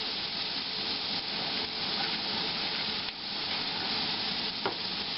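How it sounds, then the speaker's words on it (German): Eggs being beaten for scrambled eggs, a steady close whisking and stirring scrape running continuously without pause and with no voices. "so schlägt man Rührei"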